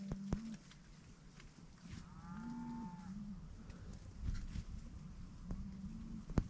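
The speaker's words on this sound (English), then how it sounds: "Do you hear those cows?" Several cows moo right beside a tent, low drawn-out calls overlapping one another against faint outdoor background noise.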